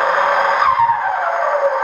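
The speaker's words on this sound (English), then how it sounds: "We're gonna give you guys one turbo sound that we've loaded." A simulated turbo sound plays from a sound device mounted on a car's strut brace, a loud steady whooshing hiss with a brief rising whistle partway through, close and continuous with no talking.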